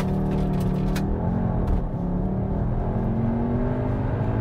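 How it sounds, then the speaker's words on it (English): A Volkswagen Tiguan R launching hard with stability and traction control off, its engine droning steadily and climbing in pitch as it accelerates, heard from close up with no talking. "Push that, then turn off your stability and traction control, and you effectively get launch control."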